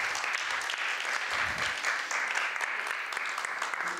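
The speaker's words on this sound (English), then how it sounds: "And warm applause from everyone else." An audience claps warmly and steadily at a startup demo day event, a dense, sustained burst of applause filling the room from start to finish, with no speech over it.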